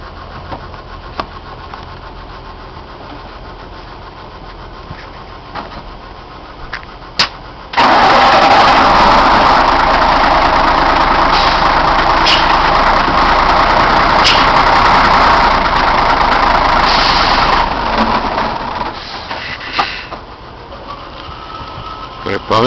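A truck engine idles through a C+E driving lesson in Targovishte, quiet at first with clicks and handling noises, then a loud steady diesel roar for about ten seconds before dropping back to a low idle.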